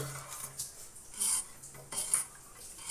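A homemade neem soap mixture stirred in a container, with a few clinks and scrapes of a utensil against the vessel, quiet and close, in short irregular bursts.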